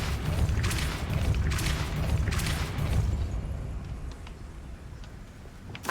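Depulso spell cast in Hogwarts Legacy, a deep rumbling boom with bursts of crackling energy, then a fading tail into quieter ambience.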